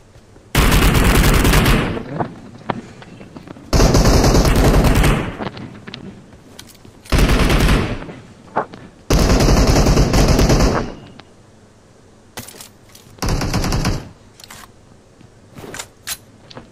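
Loud bursts of automatic gunfire in PUBG on a new map, several sustained volleys of about a second or two each, separated by quieter gaps with scattered single shots.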